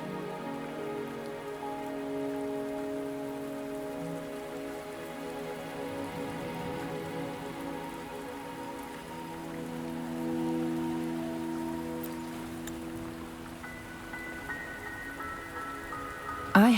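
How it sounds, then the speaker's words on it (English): Steady rain falling in Wuthering Waves, a constant hiss of drops hitting surfaces, with calm game music humming beneath it throughout. "Are you trapped here by the rain?"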